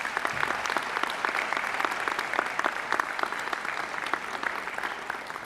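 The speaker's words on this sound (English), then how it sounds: "So please join me in a round of applause for all our award winners" A graduation ceremony audience in Adelaide applauds award winners, producing steady, dense clapping at even moderate loudness throughout, with no voices rising above it.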